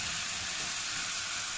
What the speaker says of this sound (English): after we are frying for some time so that it can be made edible